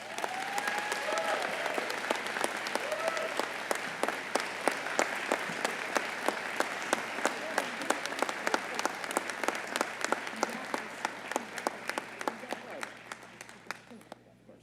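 A large crowd applauds as the Mayor of Reno enters a State of the City event, sustained clapping with sharp individual claps and some cheering, gradually thinning toward the end.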